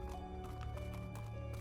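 Horse hooves clip-clopping in the video game ARK, a quick, faint rhythmic patter of steps over a low steady background hum.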